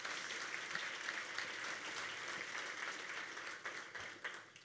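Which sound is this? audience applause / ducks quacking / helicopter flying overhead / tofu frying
audience applause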